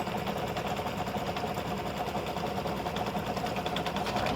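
Embroidery machine stitching thread onto fabric for an in-the-hoop mug rug, a steady fast mechanical chatter, quiet and continuous, close up without talk.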